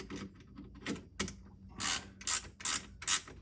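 A hand ratchet tightens a 1/4-20 bolt on a mirror clamp fitted to a Honda Pioneer 1000 UTV, giving short, close bursts of rapid clicking separated by brief pauses.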